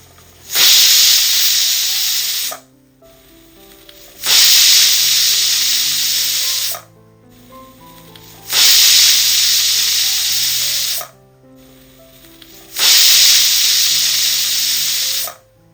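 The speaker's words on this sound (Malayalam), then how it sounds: "കുക്കർ മൂടി വെച്ച് നമുക്ക് മീഡിയം ഫ്ലെയിമിലിട്ടിട്ട് ഒരു 4 വിസിൽ കേൾക്കുന്നവരെ ഒന്ന് വെയിറ്റ് ചെയ്യാം." A pressure cooker with eggs inside lets off steam in four long, loud hissing bursts of about two seconds each, separated by short quiet gaps, with a faint low hum beneath.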